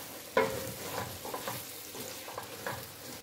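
Smoked catfish and smoked panla fish are stirred into a palm oil rice sauce: quiet, gentle sizzling with several soft scraping stirs and light clinks spaced out, fairly close.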